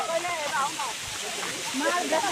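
Steady rushing water from Gandahati waterfall in Gajapati district, Odisha, running low, fills the background throughout, with people talking over it.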